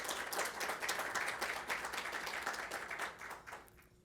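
Applause from graduates and guests at a Doctor of Behavioral Health commencement ceremony, a fairly quiet, crackling patter of many hands that rises briefly and then tapers off toward the end, with no speech.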